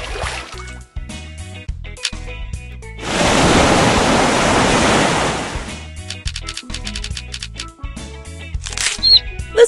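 A burst of ocean waves washing onto a beach in a children's learning game, a loud surf rush lasting about two seconds that swells and fades, between short chimes and musical tones.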